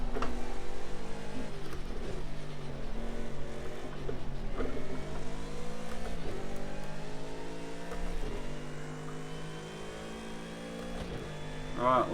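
A McLaren race car engine in the Project Cars 2 racing game, revving loudly and steadily through a series of upshifts. The pitch climbs repeatedly with each gear and then drops, in a continuous close engine drone.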